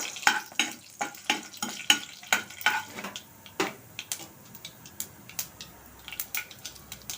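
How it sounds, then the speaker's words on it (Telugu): Chana dal and urad dal frying in oil in a pan, with a steady row of sharp scraping strokes from a stirring spoon over a soft sizzle, the stirring thinning out after a few seconds. "పచ్చిశనగపప్పు వేసానమ్మా, అలాగే కొంచెం మినప్పప్పు కొంచెం వేపించుకుందాం"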